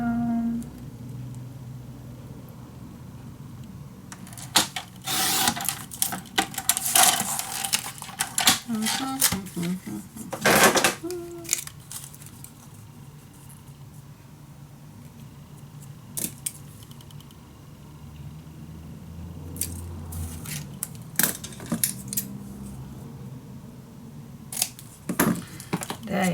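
Paper being cut down by hand for a folio, with intermittent crisp snips and rustling bursts scattered through the clip alongside quieter handling noises and occasional speech.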